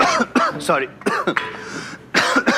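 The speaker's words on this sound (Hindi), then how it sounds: "आई मीन खांस क्यों रहे हैं" A man coughs and clears his throat in a courtroom scene, short rough bursts mixed in with speech at close range.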